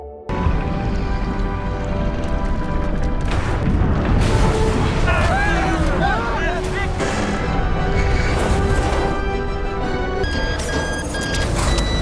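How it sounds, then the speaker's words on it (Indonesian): A huge explosion tears through a sea monster in a film, heard as a loud sustained roaring blast with rumbling low end and crackling debris, while a narrator speaks over it. "Sebuah ledakan sangat kuat memanaskan monster itu dan menyebabkannya meledak"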